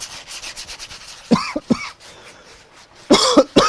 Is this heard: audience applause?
no